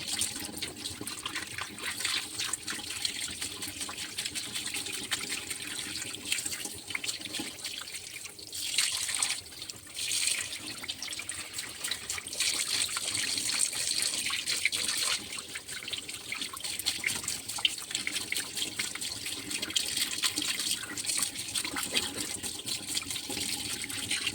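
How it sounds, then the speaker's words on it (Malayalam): Tap water runs steadily from an open faucet into a sink while fish and squid are cleaned, a continuous splashing stream that lasts throughout, with faint handling noises. "പൈപ്പ് തുറന്നിട്ടിട്ട് ഇങ്ങനെ ക്ലീൻ ചെയ്യണം അപ്പോൾ ഇത് ആ വെള്ളം വീണ് വീണ് ഇങ്ങനെ അഴുക്ക് ഇങ്ങനെ പോയിക്കൊണ്ടിരിക്കും"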